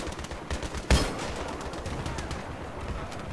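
Machine gun fire in the Battlefield 3 video game campaign, a dense continuous rattle of rapid shots with one sharper, louder burst near the start, sustained at even loudness throughout.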